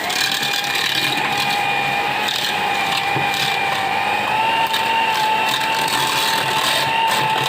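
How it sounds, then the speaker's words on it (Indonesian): An electric hand mixer beats sugar for a pumpkin cake batter, a loud steady whirring drone with a faint rattle that runs without a break and is close up, with no talking. "Kita mixer hingga gulanya halus dan merata."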